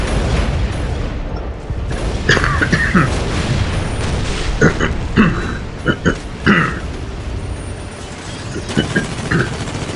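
Battle fire from units in the Dawn of War Soulstorm strategy game, with scattered booms and sharp shot bursts over a steady rumbling bed of combat noise that carries throughout.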